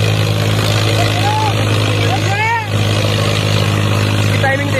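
A Sonalika 35 tractor engine labours steadily while pulling a single harrow in a competition, a loud continuous low drone with rising whistling tones over it.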